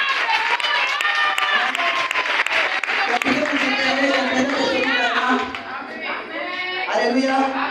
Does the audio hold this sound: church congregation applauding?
yes